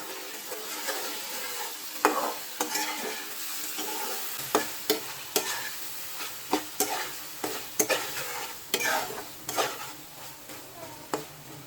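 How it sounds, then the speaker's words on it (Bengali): A hilsa fish head is stirred in spice masala in a pan: repeated scraping knocks of the spoon over a continuous close sizzle. "আবারও নাড়াচাড়া করে মিশিয়ে নিব।"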